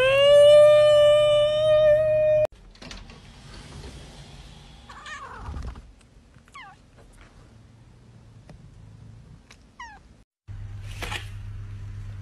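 A cat gives a long, loud, rising meow up close, followed by quieter intermittent mews and small squeaky calls against a hushed indoor background.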